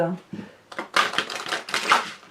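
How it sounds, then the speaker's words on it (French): An angel oracle card deck is shuffled by hand, quick rattling riffles and snaps in close bursts, mixed with a person talking. "Très facile à mélanger, moi j'aime beaucoup."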